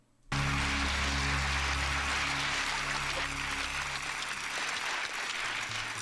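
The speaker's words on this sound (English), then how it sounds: "The audience is applauding the truthful answer, I think, not the action." Studio audience on a game show bursting into sustained applause after a sudden start, dense and loud, with a low hum beneath fading partway through.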